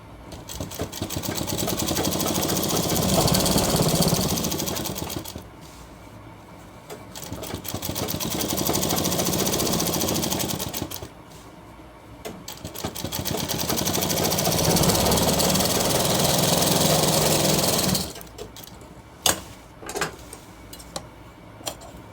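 An electric sewing machine stitches a shirt in three long, steady runs of fast, even whirring, with short pauses between them and a few ticks and clicks at the end.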